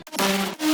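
Bass house synth in Serum running filter, flanger, chorus and hyperdimension automation together, one long bright sweeping note followed by a shorter stab, loud and up close.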